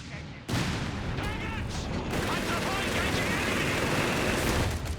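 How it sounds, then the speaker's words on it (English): Mortar fire rumbles in Company of Heroes 3 as a dense, continuous barrage of booms and crackling gunfire in a World War II battle, starting abruptly and holding steady at high intensity. "Bit of mortar fire."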